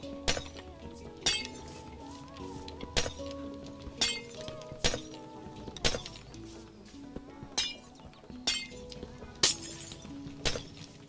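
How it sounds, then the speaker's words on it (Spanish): Glass blocks shatter one after another while a Minecraft Bedrock iron farm is being built, giving about a dozen sharp, evenly spaced clinking breaks over a steady game music background. "Ahora solo tenemos que retirar los cristales."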